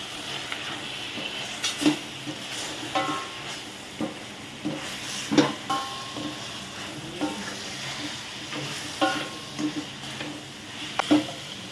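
Homemade masala powder is stirred into chicken liver curry frying in a pan, with a continuous sizzle broken by repeated scraping and clinking strokes of a spoon, close and fairly loud.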